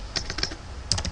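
Keys on a computer keyboard are tapped while a search query is entered, producing a short burst of quiet, close clicks in two small clusters.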